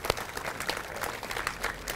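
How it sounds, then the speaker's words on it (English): A crowd claps at a Bellevue Public Library ribbon-cutting ceremony, scattered, fairly faint applause with uneven individual claps standing out against a quiet room. "yes, we're applauding the city of Bellevue."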